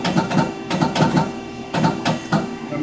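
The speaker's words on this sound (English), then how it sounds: "Inch punch in there, so it's going to make an inch or an eighth hole." A machine-shop punch press fitted with an inch punch works in a run of rhythmic mechanical clatter: about four short bursts of clunking, loud and close, with no speech.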